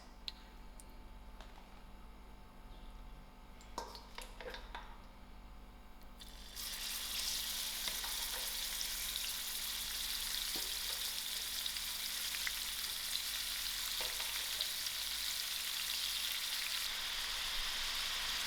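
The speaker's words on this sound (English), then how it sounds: "I'm going to start off first by frying out my prawns." Prawns for biryani drop into hot oil over moderate heat and start sizzling loudly, preceded by a few clicks and clatters; the steady hiss of frying continues to the end.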